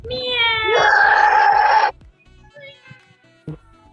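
A group of children imitate a cat with a loud, drawn-out chorus of meowing voices lasting about two seconds, followed by quieter scattered sounds in the room.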